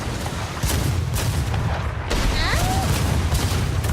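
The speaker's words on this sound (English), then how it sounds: "they are shooting at us." Enemy ship cannon fire in a pirate video game makes repeated booming blasts over a dense, roaring battle background. A brief whistling streak passes near the middle of the firing.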